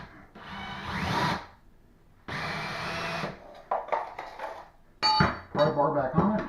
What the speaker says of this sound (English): Take your screw, run it back in the trim